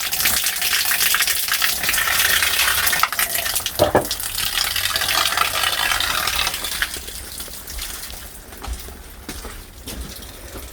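Shower water runs in a bathroom at a forest bungalow in Batu Karas, giving a steady, loud rushing gush throughout that eases slightly toward the end.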